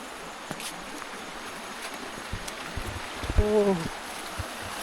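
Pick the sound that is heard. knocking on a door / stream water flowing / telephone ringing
stream water flowing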